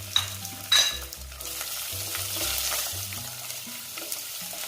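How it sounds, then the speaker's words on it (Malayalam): Crushed garlic, dried red chillies and curry leaves frying in a pan for kappa puzhukku, crackling sizzle with a few sharp spoon scrapes and knocks as it is stirred, close and moderately loud, no speech. "ആ വെളുത്തുള്ളിയും വറ്റൽമുളകും കറിവേപ്പിലയൊക്കെ ഒന്ന് മൂത്ത് വരുന്നത് വരെ നമുക്ക് നന്നായി ഇളക്കി കൊടുക്കാം"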